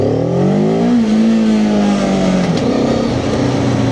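Cyclone RC600 motorcycle engine running steadily while riding, a loud continuous drone with rising and falling engine tones close to the microphone, with no talking.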